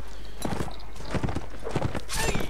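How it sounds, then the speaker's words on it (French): Hooves of a riderless horse clatter in Mount & Blade Warband, a run of loud, close clip-clop strikes in uneven bursts over a low background hum. "Un cheval sans cavalier."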